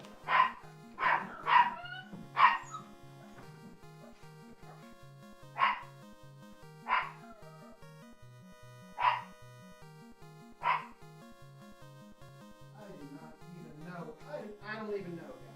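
Dogs in a Final Fantasy randomizer game bark in short bursts, a cluster of quick barks followed by spaced single ones over a steady chiptune music loop, with someone talking softly near the end.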